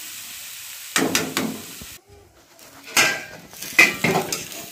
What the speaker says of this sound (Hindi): अब इन सभी सब्जियों को हल्का सा पकाएंगे, बस हल्का सा पकाना जरूरी रहता है इसलिए सब्जियों को।